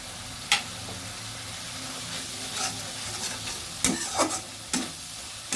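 Slit green chillies stirred and fried in a pan for Bhola fish curry, a low steady sizzle broken by a few sharp scraping clicks of the spoon.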